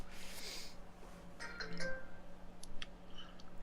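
A phone's notification chimes go off in a room during a game stream, a few short bright tones and blips over a low background hum, fairly faint.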